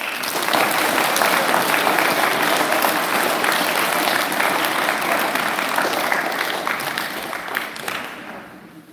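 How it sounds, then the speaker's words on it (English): An audience claps continuously for senior speech finalists at a school speaking event, a dense, loud wash of applause that holds steady before tapering off at the end. "another round of applause for the speakers"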